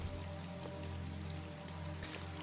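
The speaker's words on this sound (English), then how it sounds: "You hear it raining outside." Steady rain falls outside as an ambient backdrop, a continuous broadband patter with a low droning hum underneath, no voices, even in level throughout.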